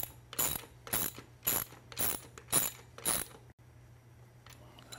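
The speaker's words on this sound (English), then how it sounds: "use your socket to finish the job and put that one all the way on" A socket ratchet tightens a 19mm lock nut on a StreetStrider ET Fusion wheel, giving five or six bursts of rapid clicking in a steady rhythm, close and clear, then falling quiet with no talk.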